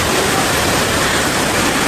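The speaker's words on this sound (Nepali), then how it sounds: "पोखरामा अहिले यत्रो पानी परेको छ कि हावाहुरी सहित मस्त पानी परिरहेछ" Heavy rain with strong wind in Pokhara pours as a loud, dense, unbroken hiss and roar close by for about two seconds, with no voices.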